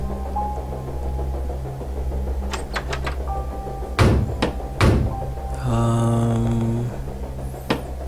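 Clunking thuds and metallic knocks from a locked door handle in the horror game Sepulchre, a few sharp isolated jolts over a low humming backdrop with sparse tonal game sounds.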